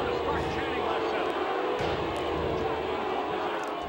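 A wrestling arena crowd in the N64 game WWF War Zone keeps up a steady, dense roar of chanting and cheering, loud and continuous throughout.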